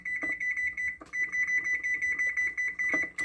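Kitchen timer beeping in a rapid steady series of high electronic pips, with a brief pause before the beeps resume, loud and close, no talking.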